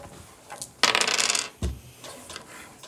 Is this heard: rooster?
no